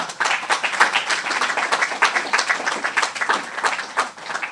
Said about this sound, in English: Can we get a round of applause for that?